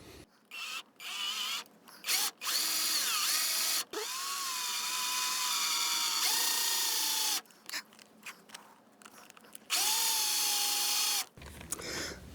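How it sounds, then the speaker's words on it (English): A power drill whines in several bursts, some short and choppy, others long and sustained, with pauses between runs as it bores a hole down through a bridge and its underlying abutment. "level hole drilled down through the bridge and the underlying abutment."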